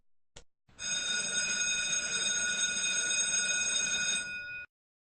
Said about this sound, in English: the hammer hits against the gong, producing a ringing sound.